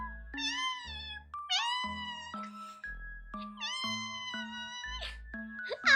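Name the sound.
voice imitating a cat meowing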